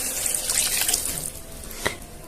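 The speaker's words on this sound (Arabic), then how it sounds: "هزود نص كوباية مية او كوباية مية واسيبها تغلي وتتسبك" Water pours into a pan of simmering tomatoes in a steady splashing rush that thins out halfway, followed by a single distinct drip or plop and a faint lingering trickle.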